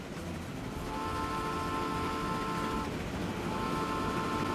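A train rolling along in the Transport Fever 2 simulation game, a continuous dense rumble with steady tonal hum layered over it, holding at an even level throughout with no talk.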